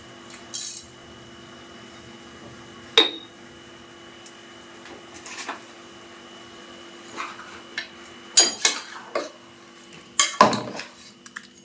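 Country chicken being stirred with rock salt in a pot, scattered metallic scrapes and clinks of a utensil against the pot, irregular and close, with quiet pauses between strokes.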